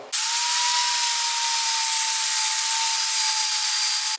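A loud angle grinder cleans metal, running continuously at a constant high-pitched whine, close and steady from start to finish, in a garage.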